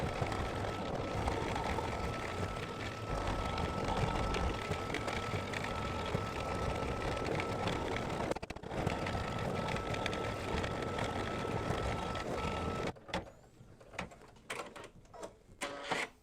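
A Babylock embroidery machine stitches in-the-hoop custom quilting, a steady, close mechanical hum running evenly before stopping near the end, followed by a few faint clicks and handling noises.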